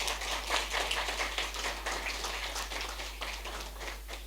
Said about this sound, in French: vous demande de l'applaudir très très fort.